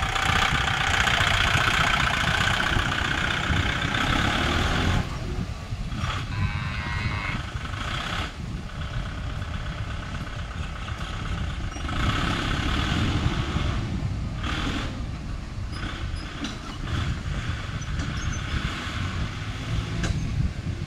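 The engine of a Kubota MU5502 4WD tractor runs steadily on a test drive after an oil service, a loud, close, continuous rumble whose level dips and swells slightly, with no talk.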